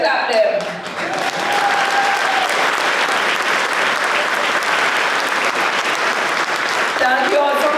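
Loud, dense applause from a benefit concert crowd, sustained for several seconds with a brief dip near the start, a voice on a microphone faintly audible at the edges.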